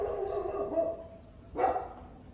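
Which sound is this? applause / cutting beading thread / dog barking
dog barking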